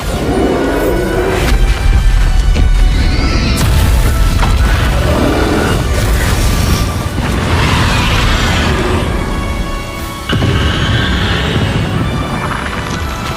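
Bombarda, an explosion spell in Hogwarts Legacy, sets off a loud, continuous barrage of deep booms, crashes and debris clatter that stays near and intense, breaking only briefly before the blasts resume.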